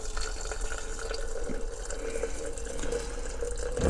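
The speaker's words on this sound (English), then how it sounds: "Get the old hot water in there." Just-boiled water from a kettle is poured into a container, giving a near, continuous gurgling fill that holds steady for several seconds and ends in a low knock.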